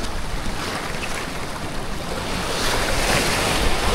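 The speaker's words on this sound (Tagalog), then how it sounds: "Sobrang lakas ng hangin guys" Strong wind buffets the microphone in a constant roaring rush, with the wash of surf beneath it and no voices.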